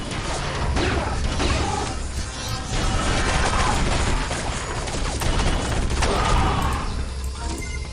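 Bursts of phase plasma pulse rifle fire in the video game Area 51 crackle and clatter in dense, noisy volleys, loud and close, with mechanical rattles between shots and no talk.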